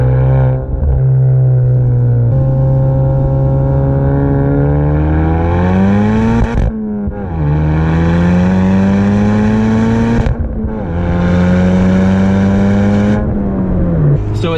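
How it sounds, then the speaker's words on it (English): A 2019 Honda Civic Type R with a Remus exhaust revs up and down loudly in long, repeated pulls, rumbling, crackling and burbling between each rise in pitch. "you can enjoy the sounds, the cracks, and the burbles that this motor produces"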